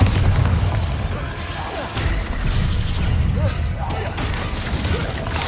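The Bombarda explosion spell in the video game Hogwarts Legacy lands as a loud, booming blast within dense, continuous rumbling combat noise.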